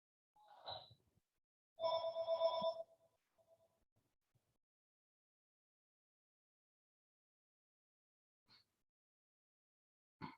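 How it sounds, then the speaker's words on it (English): A phone rings somewhere in the background of a quiet room, with two short electronic ring bursts in the first few seconds, then long silence broken by a couple of faint clicks. "Hear somebody's phone ringing in the background."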